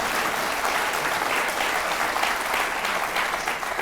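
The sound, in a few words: audience applause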